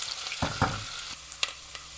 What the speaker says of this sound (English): Nice sizzle, oil is hot.